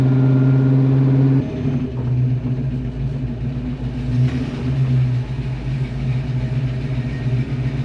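A car with a newly installed limited slip differential and 3.55 rear gears drives along, its engine droning steadily at close range with a constant road rumble and no talking.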